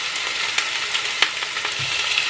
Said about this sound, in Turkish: Tavuklarımızı kızartalım.